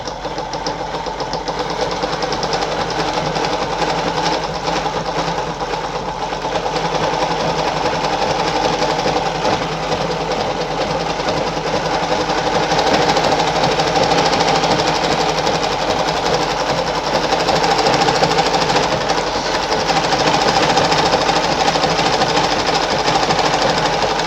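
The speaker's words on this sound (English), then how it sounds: "It actually tends to tighten the thread when you're winding the bobbin" A Singer 5107 sewing machine winds its bobbin with a steady, fast mechanical whir and rapid clatter that runs unbroken at an even, close level with no voices.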